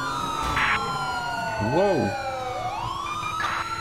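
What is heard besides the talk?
police car sirens in video game GTA5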